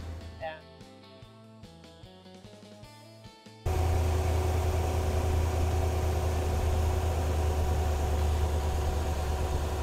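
A classic car engine idles while its fuel mixture is being adjusted, a steady, dense rumble with a low hum. It begins abruptly after a few seconds of tonal, music-like notes.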